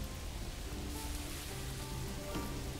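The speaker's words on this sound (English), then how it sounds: "and it's raining" Steady rain in the video game Manor Lords hisses as a soft, continuous wash of patter, even and unbroken throughout, with no voices.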